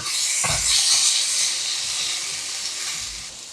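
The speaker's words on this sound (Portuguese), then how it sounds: "vamos dar mais uma fritadinha aqui no azeite, no alho e na manteiga" Eryngii mushrooms frying in olive oil, garlic and butter give a steady, close sizzling hiss that holds loud throughout, with one brief stir or clatter near the start.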